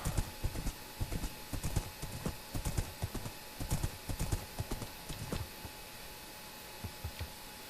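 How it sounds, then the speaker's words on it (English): Horse hooves in the video game Minecraft clip-clop in a quick, steady rhythm at a good pace, close and clear, then ease off and fade toward the end, with no talking. "One horse delivered."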